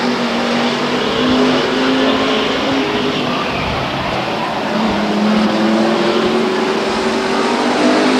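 Race cars at Stockton 99 Speedway roaring around the oval, a loud continuous engine drone with a pass swelling near the middle, heard from trackside with a commentator's voice faintly mixed in.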